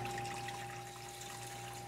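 Water from a 12-foot aquarium drains steadily down into a 100-gallon Rubbermaid sump below, a continuous close trickling and splashing rush under a constant pump hum.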